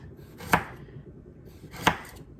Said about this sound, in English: I'm going to continue dicing these up, and then I'll be back for our next step. Not dicing, slicing.